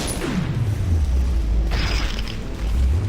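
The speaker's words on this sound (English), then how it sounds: "Hold on a tick, I'm reloading." Weapon reload in the Killing Floor zombie shooter: metallic mechanical clicks and a low thud, with a sweeping pitch drop early on and a brighter clack near the middle, all loud against a steady low rumble.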